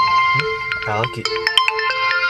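Phone ringtone playing an electronic melody of short bright tones, moderately loud, with a brief voice-like warble partway through.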